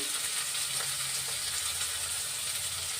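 Two large onions frying in a pan in a village kitchen, a dense continuous sizzle with scattered pops and crackles, close and steady, with a few soft stirring scrapes.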